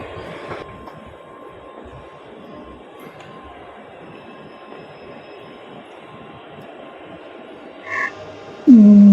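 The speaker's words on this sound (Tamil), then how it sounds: "இப்போ ட்ரெயின் போயிடுச்சு." A Bangalore metro train rumbles at a station platform with a steady, low rolling drone, followed near the end by a short tone and a louder, sudden rise in noise.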